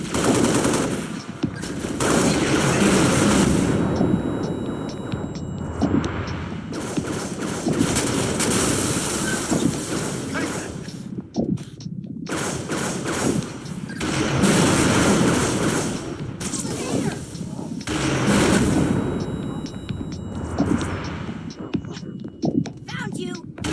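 Covering gunfire in the Halo Reach video game: loud bursts of automatic weapon fire come in repeated waves over a chaotic battle din, with brief pauses between volleys and voices talking in between.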